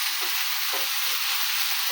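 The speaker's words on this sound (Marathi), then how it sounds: "आता या मेथीच्या भाजीला फोडणी दिली मी" Fenugreek greens tempered in hot oil on a griddle with chili, garlic and dal, giving a steady, close sizzle with a few soft stirring knocks and no talking.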